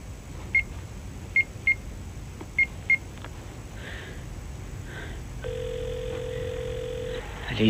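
A telephone line waits for an answer: a few short, sharp beeps spaced irregularly, then a steady, sustained ringing tone held for nearly two seconds, alone with no voices.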